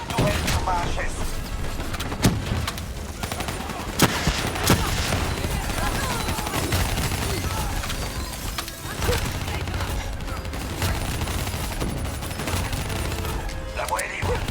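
Turret gunfire roars in the video game Call of Duty Black Ops 3, a dense, unbroken fusillade of loud bursts with crashing impacts mixed in.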